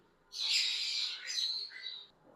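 A blue ringneck parrot lets out a single harsh, drawn-out squawk that breaks into a shorter trailing screech, close and fairly loud against a quiet room.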